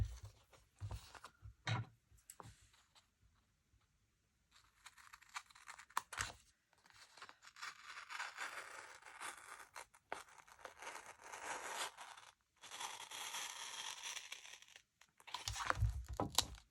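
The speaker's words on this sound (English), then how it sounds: "I'm going to cut that off as well." Paper being cut and trimmed while making a memory planner dashboard, with scissors snipping and crisp tearing, crinkling strokes in bursts of several seconds separated by short pauses, close and moderately loud.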